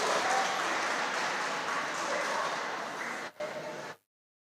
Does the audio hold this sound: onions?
no